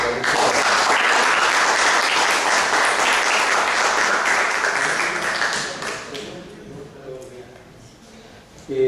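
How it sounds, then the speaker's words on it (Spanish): Dense, loud audience applause at a rural employment seminar, steady for about six seconds before tapering off, with a voice starting to speak at the end. "Y pido un aplauso."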